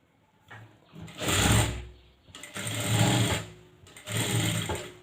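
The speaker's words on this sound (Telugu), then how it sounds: "ఇప్పుడు దీని మీద ఒక కుట్టు వేసేస్తున్నాం" Sewing machine stitching a blouse, three close, distinct bursts of whirring stitching, each about a second long, separated by short pauses and faint handling sounds.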